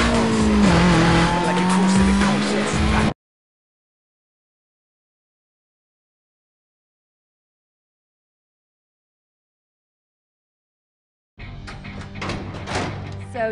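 In the Need for Speed: Most Wanted Black Edition racing game, a car brakes hard with a sustained tire squeal over engine noise. A long silent gap follows, then engine and road noise return.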